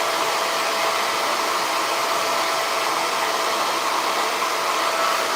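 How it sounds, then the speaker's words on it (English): A handheld blow dryer runs continuously on a damp wig cap, a steady, loud airy whoosh with a constant motor whine and no pauses or talk. "I think I need to hit this with a blow dryer."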